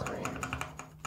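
Typing on a mechanical keyboard fitted with NovelKeys Cream switches, a brief quick run of close, muted, even keystrokes with no talking.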